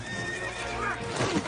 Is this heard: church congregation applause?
no